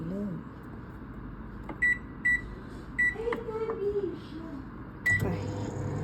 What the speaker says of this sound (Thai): เดี๋ยวเอาไปเวฟอีกรอบหนึ่ง